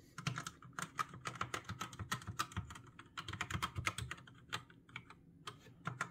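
Fingers type on a Gamepower Suki TKL mechanical keyboard with black switches, producing fast, irregular, close-up key clacks in quick runs with brief pauses and no talking.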